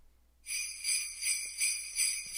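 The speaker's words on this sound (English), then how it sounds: "I'm going to be making a track using only a sleigh bell sound," Bright jingling sleigh bells shake in a steady rhythm, about five bursts of shimmering metallic tinkle, fairly close and alone.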